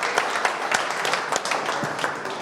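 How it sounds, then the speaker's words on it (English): Live podcast audience at a charity auction giving a round of applause, steady close clapping with distinct sharp individual claps standing out over a couple of seconds. "Give this man a round of applause."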